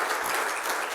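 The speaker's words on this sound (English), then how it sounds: "one more round of applause for all of them" Audience applause for medical alumni award recipients at an awards presentation, a brief steady wash of clapping filling the room with no voices over it.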